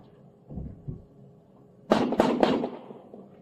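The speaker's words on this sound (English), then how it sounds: "Shots fired, shots fired." A burst of several rapid gunshots fired close by during a police shootout after a vehicle pursuit and PIT maneuver, loud sharp cracks in quick succession following a couple of duller thumps.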